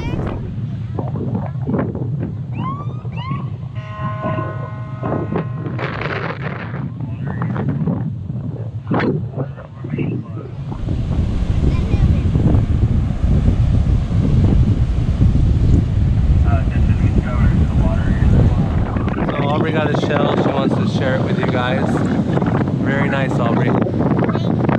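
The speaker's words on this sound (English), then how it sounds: "Waves are coming up. Beach is gonna disappear soon." Strong onshore wind and heavy surf crashing on a beach ahead of Hurricane Dorian, gusts buffeting the microphone in a loud, roaring wash with rising surges, while people talk over it early on.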